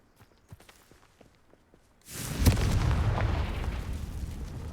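Confringo blast spell in Hogwarts Legacy: a sudden loud fiery burst erupts midway, then a sustained roaring rumble that slowly fades, after quieter scattered footsteps and taps.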